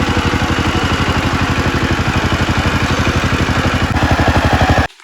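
A tractor ploughs a flooded paddy field in hot weather, its engine chugging in a steady, fast low rhythm, loud and close and constant throughout, cutting off abruptly at the very end.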